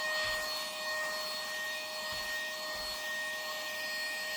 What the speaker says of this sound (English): and another little hoover